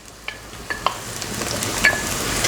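Chopped onion hitting hot oil in a pan while preparing pasta béchamel, a steady sizzle with a few sharp crackles and stirring scrapes, close and alone with no voices.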